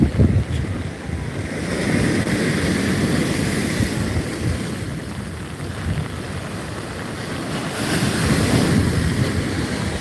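Sea waves surge onto Digha beach in rainy weather, a broad roaring wash that swells and recedes in slow cycles, mixed with strong wind buffeting close to the microphone, with no voices.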